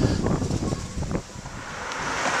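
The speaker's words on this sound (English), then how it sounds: "A bit windy, but as you can see," Strong, gusty wind buffets the microphone outdoors in a car park, a loud continuous rumble that eases slightly midway.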